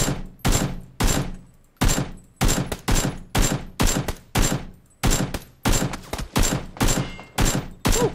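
Gunfire in the online battle-royale game Battlegrounds: a rapid run of about fifteen loud, sharp reports in uneven bursts, each one cracking close and decaying quickly, with no voices over it.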